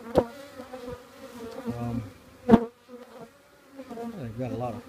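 Honeybees hum and buzz close by during a hive inspection, the drone wavering in pitch as individual bees pass near, with a few sharper knocks from handling the frames.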